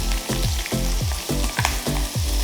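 Red onions, garlic and a teaspoon of tomato paste fry in a pan for a curry, a loud close steady sizzle with rhythmic scraping stirs about every quarter second, no voices.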